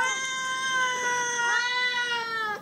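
Hungry cats meowing for breakfast, long drawn-out overlapping meows and wavering caterwauls from two voices, close and fairly loud.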